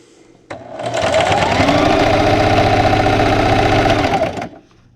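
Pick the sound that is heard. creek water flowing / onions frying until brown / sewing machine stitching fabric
sewing machine stitching fabric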